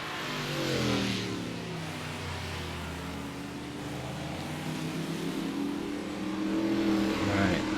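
Big block and UMP race cars at Lincoln roar past, their engines rising and falling in pitch as they accelerate and sweep by at a steady, loud level.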